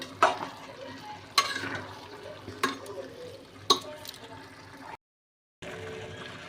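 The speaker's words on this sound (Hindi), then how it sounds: "बस चम्मच चलाते रहना है, हाथ नहीं रोकना है अपना।" A spoon stirs carrot halwa in a pan over high heat, scraping in several distinct, spaced strokes against a low background sizzle, followed by a brief silence.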